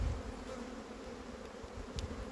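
Honeybees buzzing on a frame pulled from a hive, a close continuous hum with a steady drone and brief louder passes, faint and alone.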